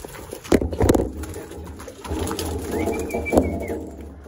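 Racing pigeon arriving at its loft at the end of a 220 km race, with soft cooing and fluttering close by, a couple of sharper knocks, and a steady background hum.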